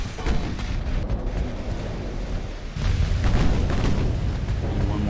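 A warship's heavy gun salvo in the naval game Ultimate Admiral: Dreadnoughts, deep rumbling booms rolling in one after another with a fresh, louder wave of blasts midway, sustained and heavy throughout.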